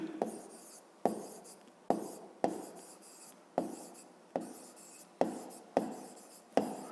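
Pen scratching on paper during a Ukrainian fifth-grade maths exercise, in about ten short strokes or bursts, each starting with a sharp onset and fading, at a steady rhythm, close and fairly quiet.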